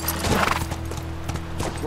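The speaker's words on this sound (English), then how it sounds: "Oh, I guess we get off the horse right there." A horse in the video game The Last of Us neighs and whinnies while its hooves clip-clop in a quick rhythm, close and fairly loud, with low game ambience underneath.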